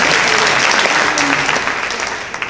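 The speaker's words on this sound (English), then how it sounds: "Can we give Ned a round of applause?" A conference audience applauds in a full, continuous burst of clapping, loud and close, gradually thinning and tapering toward the end.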